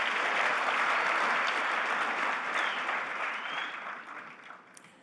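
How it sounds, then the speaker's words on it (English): Audience applause at a youth camp presentation, a dense, fairly loud burst of clapping that fades away over a few seconds. "Let's clap hands for these guys."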